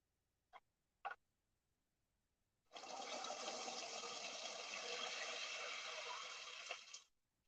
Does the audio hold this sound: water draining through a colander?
yes